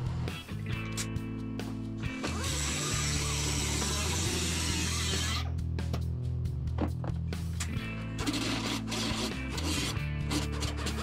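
Grinding or sanding cleans up the welded edge of a 1981 Monte Carlo trunk lid, a loud continuous abrasive rasp over a steady low motor hum throughout.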